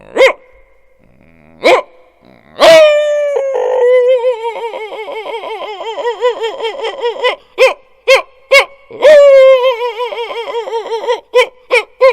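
A reedy khaen mouth organ mimics a dog with sharp bark-like blasts and a run of wavering, growling tones, then several short yelping bursts.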